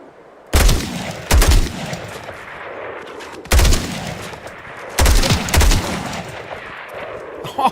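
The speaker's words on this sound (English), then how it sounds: "the battle rifle makes it just a little bit easier" Battle rifle fire in a shooter game fighting raiders: five loud, close bursts of quick shots with short gaps between them, over a quieter game background.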